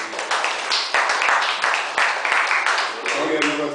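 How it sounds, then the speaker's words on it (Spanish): Applause and scattered hand claps from a church congregation continue beneath a speaking voice, the clapping steady and fairly close throughout. "este aplauso para ti, Señor."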